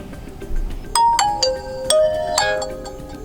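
A Nokia 8000 4G phone plays its power-on startup tone, a short, clear, bright melody of several descending chime notes, close and alone.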